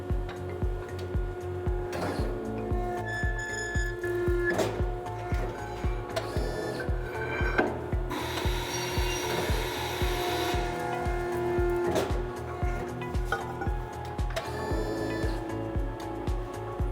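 A Euromac Digibend 400 CNC horizontal press brake works through a bending cycle, with steady rhythmic mechanical thumps, clicks and whirring motor tones repeating evenly throughout, close and moderately loud with no talking.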